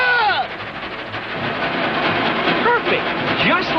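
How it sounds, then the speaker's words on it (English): Cartoon ghost train rolling along rails, with a rhythmic clickety-clack and hissing steam, plus swooping eerie tones at the start and again near the end, steady and fairly loud throughout. "We're nearing the spot where the ghost train usually appears."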